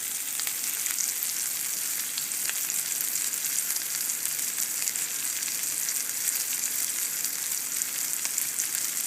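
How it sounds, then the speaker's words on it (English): Onions frying in a pan give a steady, bright sizzle that stays even and continuous throughout, loud and close with no voices over it. "here's a pretty shot of some frying onions"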